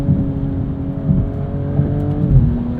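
A 2022 BMW M240i xDrive coupe's engine pulls steadily through its 8-speed ZF automatic, its loud, close drone stepping down in pitch as a smooth gear change lands near the end.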